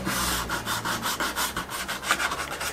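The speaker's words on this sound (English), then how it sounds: "I just got a little sanding pad, and I'm just going to rough up the plastic a little bit." Steady rhythmic sanding, a small sanding pad scrubbing back and forth in quick strokes to rough up a hard plastic surface, close up with no voices.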